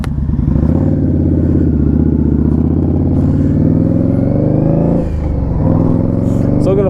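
Several Indian Scout Bobber motorcycles ride together on a countryside run, their engines droning steadily and loudly close by, with a brief dip in throttle before they pull again.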